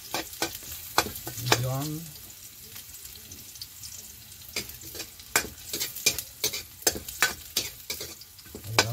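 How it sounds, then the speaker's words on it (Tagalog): Mushrooms frying in a pan are stirred with a spatula, giving repeated close scrapes and clacks over a light sizzle. A brief voice is heard near the start. "Haluin."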